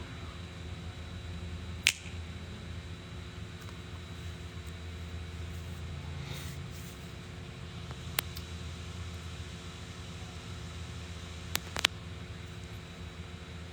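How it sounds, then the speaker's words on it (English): A few sharp finger snaps ring out against a low, steady background hum, with one isolated snap early, another near the middle and a quick pair toward the end, each crisp and close. "When I snap my fingers,"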